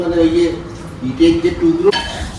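Plates and cutlery clinking as people sit down to a Bengali home meal of rice and fish, a few light clinks and scrapes close by, mixed with a faint tonal whine and background voices.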